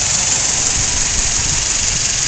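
Four-cylinder car engine idling, a steady close hum with a low, even throb throughout, no voices.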